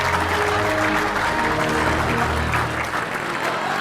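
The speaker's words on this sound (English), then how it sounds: "How about another round of applause for the boss?" A conference audience breaks into loud, sustained applause, a dense wash of clapping from a large crowd that continues steadily throughout.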